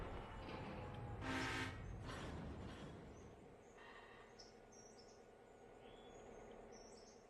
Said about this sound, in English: It's going to be a great train. It's going to be a long train.